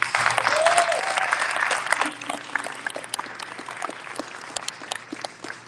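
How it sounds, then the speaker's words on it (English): An audience in a Houston ballroom applauds a state representative with steady broadband clapping that peaks early and then thins and tapers over several seconds, with a few voices faintly mixed in. "please, round of applause for State Representative Cristina Morales"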